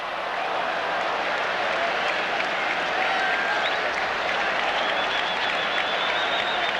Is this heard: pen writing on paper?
no